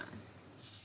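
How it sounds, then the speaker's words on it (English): Hairspray sprayed into hands during hair styling, a short steady hiss that starts midway and runs to the end, close and fairly soft. "Sprayed a little bit in my hands because I just want to do it like this."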